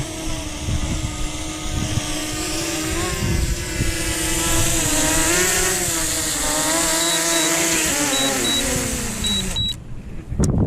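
A loud, steady motor whine with shifting pitch from a drone hovering close by over the North Myrtle Beach shore, continuous throughout before cutting out abruptly near the end as it lands.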